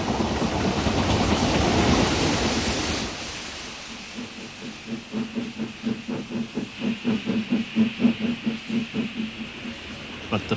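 Steam locomotives double-heading a heavy train on the Somerset and Dorset line over the Mendip Hills: a loud hiss of steam releases, then rapid rhythmic exhaust chuffs building steadily, close and powerful.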